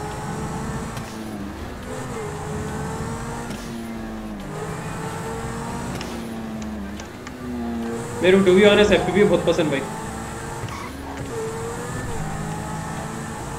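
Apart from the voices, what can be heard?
car being driven in GTA V, video game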